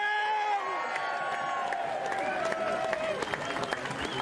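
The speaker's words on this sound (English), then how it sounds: "how about another round of applause for Larry O'Connor?" At an outdoor pro-ICE rally, a crowd gives Larry O'Connor another round of applause, steady clapping with cheers and whoops, moderately loud and continuous throughout.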